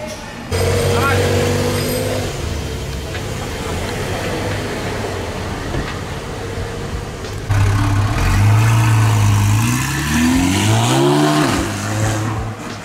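A Porsche GT3 flat-six engine idles, then revs up in rising and falling sweeps with a loud close exhaust note, as people talk over it.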